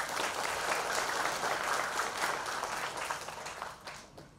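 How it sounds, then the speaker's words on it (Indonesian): A studio audience claps together in steady, even applause for a few seconds at a podcast taping before tapering away, no voices on top. "Tepuk tangan dulu buat semuanya."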